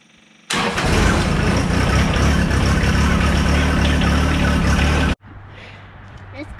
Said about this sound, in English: let's get on the tractor and let's go.